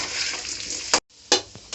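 Potato pieces sizzle in a pan over a low flame, a steady bright frying hiss broken by a brief silent gap and a few sharp stirring scrapes.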